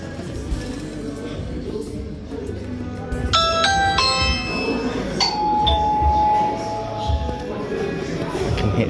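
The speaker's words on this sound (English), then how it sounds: "if I click on the Ring doorbell" A bright electronic Ring smart doorbell chime, played through a Samsung American-style fridge freezer in a Samsung showroom at Kings Cross, rings out in a few sustained tones over a steady background hum, with faint voices around it.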